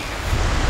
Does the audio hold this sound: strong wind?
yes